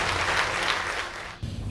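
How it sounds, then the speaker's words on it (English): Dense applause fills an awards ceremony hall for SBI, honoured among India's top PSUs, as a steady wash of clapping from the audience dips briefly before swelling again. "A thunderous round of applause for SBI"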